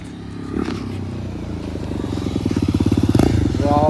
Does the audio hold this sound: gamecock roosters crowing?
no